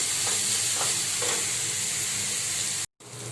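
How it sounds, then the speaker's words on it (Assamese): Food frying in a hot pan while making egg rolls, a steady loud sizzle and hiss with a few soft stirring scrapes, briefly cut by a short silent gap near the end. "প্ৰথমতে ভাজি লৈছোঁ।"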